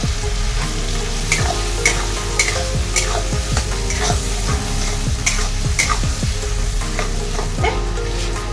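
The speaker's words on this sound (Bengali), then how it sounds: "এটা একটুখানি ভাজা হলে এর মধ্যে দিয়ে দিচ্ছি পেঁয়াজ, রসুন, আদা, কাঁচা লঙ্কার পেস্ট" Onion, garlic, ginger and green chilli paste fries loudly in hot oil for a cauliflower roast, sizzling steadily while a spoon scrapes and stirs the pan in repeated sharp strokes.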